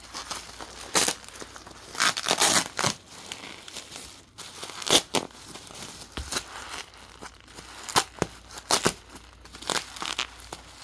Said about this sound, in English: we'll go ahead and unwrap the attachments too while we're down here